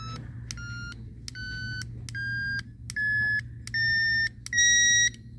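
An electronic buzzer on a student-built sloth project sounds a series of about seven pure beeps, each held longer and pitched differently as the tone shifts, steady and clear over a low background hum.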